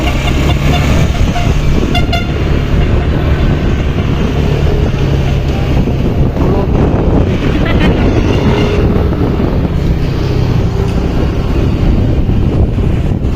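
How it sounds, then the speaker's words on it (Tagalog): Toy turutot horns blown by roadside vendors along a highway ahead of New Year give intermittent toots, heard from a moving vehicle under heavy wind buffeting and traffic rumble. "may nagtitinda ng mga turutot dito"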